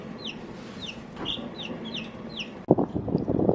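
Meat chickens on a homestead clucking softly at night, a steady chorus of close, repeated clucks with occasional higher calls, ending in a louder burst of shuffling and clucking.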